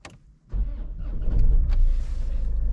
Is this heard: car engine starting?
yes